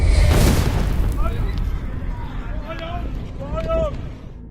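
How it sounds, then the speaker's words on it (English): A loud boom from an airstrike on an elementary girls' school in Minab, Hormozgan province, Iran, rolls on as heavy rumbling while shouting and crowd noise rise over it. "an airstrike hits the Sarayeh Tayyibi Elementary Girls' School in Minab, Hormozgan province"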